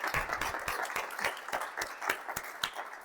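A small audience claps for new charity trustees joining the board at a launch presentation, individual hand claps sharp and fairly close, uneven and sparse rather than a full roar, with a few louder slaps standing out.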